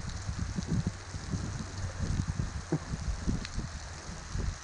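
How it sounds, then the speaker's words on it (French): Soft, steady rain patters on a surface during a bike tour in Tuscany, with scattered heavier drops tapping irregularly; quiet and continuous outdoors. "on n'est pas à l'abri de la pluie."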